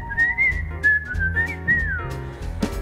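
A person whistles a melody, a clear, close, sustained tune of gliding notes over soft accompaniment, with no talking.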